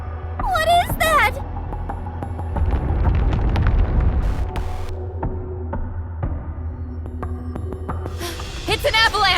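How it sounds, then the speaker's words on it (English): A deep, sustained rumble of an avalanche in the video game NIKKE swells and throbs beneath dramatic music, with character voices speaking before and after. "It's an avalanche!"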